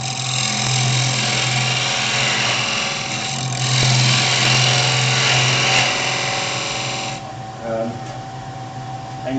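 A wood lathe spins steadily as a scraper cuts the inside of a lidded wooden box, a loud continuous motor whine with a rough cutting texture that eases near the end.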